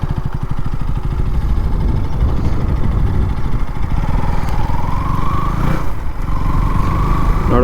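A 2025 KTM Duke motorcycle engine runs loud and near, a steady throbbing idle that rises into a revving climb, dips briefly, then revs up again.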